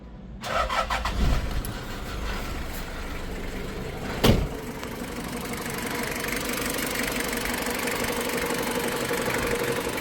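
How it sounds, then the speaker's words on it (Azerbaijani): A Toyota Surf with a 1KZ-TE diesel engine, fitted with a new cylinder head and a cleaned radiator, cranks briefly and fires. It settles into a steady, even idle, with one sharp knock partway through. "Gördüyünüz kimi mühərrik normal şəkildə işə düşür, normal şəkildə işləyir"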